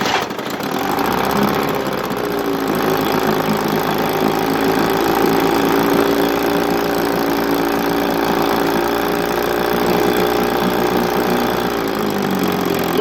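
A small 1958 Evinrude 10 HP outboard motor, rebuilt from scrap parts, runs steadily and loudly, its engine drone holding an even pitch for several seconds without any talk.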